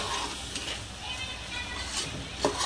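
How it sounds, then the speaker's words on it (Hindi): Rice and vegetables for pulao are sautéed in a pan, a low steady sizzle with scraping stirs, close and fairly quiet, with a voice faintly present underneath. "अच्छे से भून लेंगे सब सब्जियों को"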